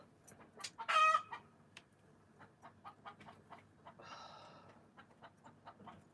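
A chicken clucks close by in a rhythmic series of short clucks, with a couple of louder, squawky outbursts in between.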